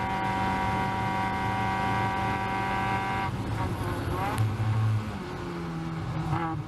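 A Caterham race car on track accelerates at full throttle, the engine note climbing hard and loud, then dropping and rising again between shifts, with a voice talking over it.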